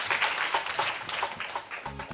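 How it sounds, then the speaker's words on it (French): Audience applauding a child's question at a show, a moderate wash of clapping with some voices mixed in, continuing steadily through the short stretch. "On l'applaudit très fort."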